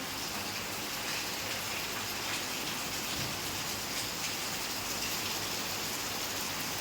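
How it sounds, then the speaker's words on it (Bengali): Rain falling outdoors, a steady soft wash of drops on surfaces, fairly faint and even throughout with no voices. "স্কুল থেকে আসার সময় দেখলাম বৃষ্টি হচ্ছে"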